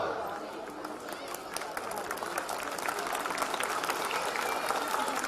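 Audience applause at a Hindi comedy poetry show (hasya kavi sammelan) with a poet, a dense continuous wash of clapping held steady for several seconds with crowd murmur and speech mixed in.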